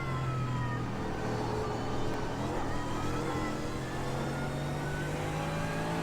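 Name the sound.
Mercedes race car engine at Nordschleife in iRacing video game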